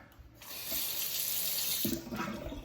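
Water runs steadily from a newly connected tap in a renovated master bathroom, a continuous close hiss that strengthens partway through and carries on to the end.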